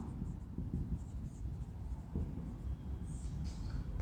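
Pen or chalk writing by hand during a polity class, heard as a continuous quiet scratching with short strokes and pauses, close and fairly faint.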